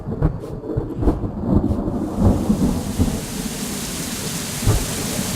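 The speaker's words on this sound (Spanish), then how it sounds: "Es una tormenta." Deep rolling thunder booms at the start, then a steady hiss of heavy rain continues as the rumbling eases during a thunderstorm; no voices.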